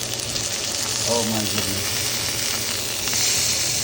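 Ribeye steak seasoned with garlic powder and black pepper sizzles steadily in soybean oil in a pan, a constant close crackling hiss running throughout while a voice briefly exclaims over it.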